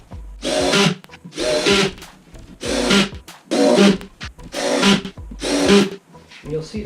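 Power drill driving screws, about seven bursts of loud whirring, each roughly half a second to a second long and separated by short pauses, close to the listener in a garage.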